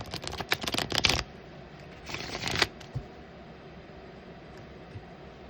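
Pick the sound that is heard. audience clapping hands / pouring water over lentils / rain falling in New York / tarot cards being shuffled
tarot cards being shuffled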